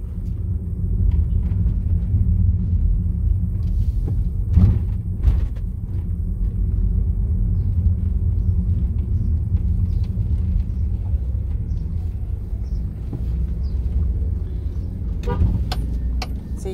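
A car rolls through busy Dakar streets in Senegal, with a steady low road rumble, faint passing traffic and a couple of brief horn toots in the distance.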